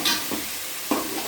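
Green chillies sauté in a pan for fish curry, a soft sizzle broken by a few quick scraping stirs of a spatula, close and alone.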